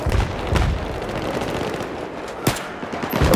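Rapid automatic gunfire in Battlefield 3 rattles continuously at close range, with a couple of sharper, louder shots standing out near the end.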